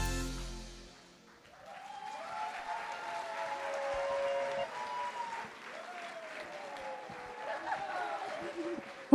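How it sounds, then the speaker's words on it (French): An audience applauds children performers at a show, a sustained clapping wash that swells after a quiet start and holds steady, with a voice talking over the applause. "On peut les applaudir très fort"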